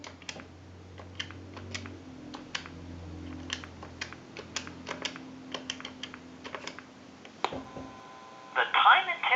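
Keys are pressed one after another on an animated Mickey Mouse telephone to dial a time-and-temperature number over a low dial-tone hum, with sharp clicks at irregular intervals and a brief burst of tones near the end.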